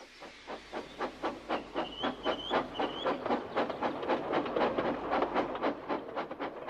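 A steam locomotive puffs along with steady, rhythmic chuffs and hissing bursts, and a short two-part whistle sounds partway through, fairly close and loud throughout.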